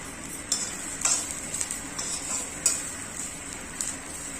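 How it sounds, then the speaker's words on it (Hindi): Karil (caper) stir-fried in mustard oil in a pan until reddish, giving a soft steady sizzle with light scrapes and stirring clicks from a utensil, close up and without speech. "इसे भी हम लाल के होने तक भून देंगे करील को।"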